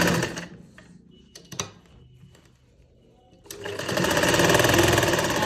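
A sewing machine runs in short bursts while back-stitching a sleeve seam, with clicks between bursts, then a longer steady stitching run at close range.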